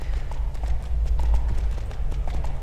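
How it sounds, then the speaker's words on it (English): Horse mount galloping in the EverQuest 2 video game, with steady rhythmic clip-clop hoofbeats at moderate loudness over a low ambient game background. "I have my horse on, so I can outrun these guys fairly easy."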